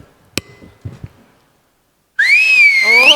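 A person whistles loudly as applause on a comedy stage show, a sustained bright whistle with rising and falling pitch that enters abruptly after quiet and continues to the end, preceded by a few faint knocks.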